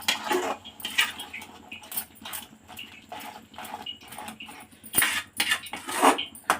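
A spoon clinks and scrapes against a metal pot in a steady, uneven rhythm, close and fairly loud, with no talking.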